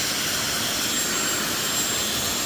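A steady, loud blowing roar of a hair dryer on its hottest setting running continuously with no pauses, broadband and even throughout.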